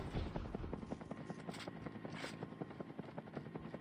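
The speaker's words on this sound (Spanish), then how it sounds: "¿Hay un helicóptero por aquí?" A helicopter in the Call of Duty video game beats with a steady rotor chop at moderate distance, its rhythmic thumping running throughout with a few sharp bursts overhead.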